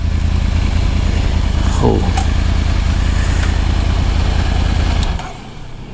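A motorbike engine runs loudly nearby in a Singapore parking area, a steady close rumble that drops off sharply near the end, with a brief spoken exclamation.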